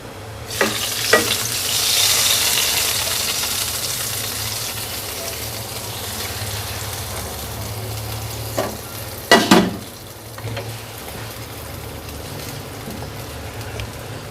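Punjabi-style kadhi being stirred after eight whole round red chillies go in: a continuous soft hiss and bubbling, broken by a few sharp spoon knocks against the pot.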